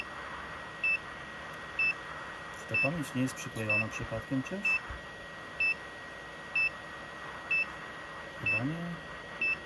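A BGA rework station heating an RTX 2070 graphics card beeps in short evenly spaced tones about once a second throughout, over a low steady hum, while someone speaks briefly in the middle.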